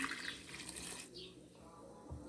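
Filtered water is poured into a glass with a steady hiss and trickle, quiet and close, then the flow stops.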